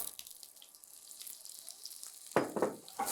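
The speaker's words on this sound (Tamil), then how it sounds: "இந்த சோயா சங்கை இந்த பட்டரில் லைட்டாக பிரட்டி எடுத்துக்கலாம்" Soya chunks sauté in butter in a pan: after a quiet stretch of faint hiss, a bright sizzle breaks out with a few quick scraping tosses near the end.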